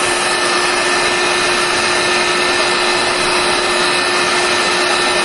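A heat tool blows hot air across the base of a Halo armour boot to soften the material, a steady, loud, unbroken whirring hiss with a constant tonal whine and no talk.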